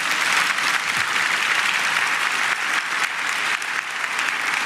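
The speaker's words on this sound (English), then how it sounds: "Give them a round of applause." Sustained applause from the audience at DeKalb County's State of the County address, a dense steady wash of clapping hands throughout with a faint murmur of the crowd beneath.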